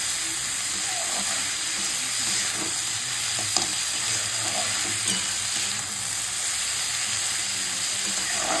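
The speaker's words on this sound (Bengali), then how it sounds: "এটা ভাজা ভাজা করি।" Potatoes and onions fry in a pan with a steady, dense sizzle and hiss that runs unbroken throughout, close and fairly loud, with a few faint stirring knocks beneath.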